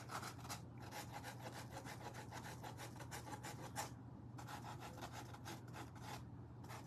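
A Christmas ornament is sanded by hand in quick, continuous back-and-forth rasping strokes, with one short pause, over a low steady hum; close and quiet, with no voices.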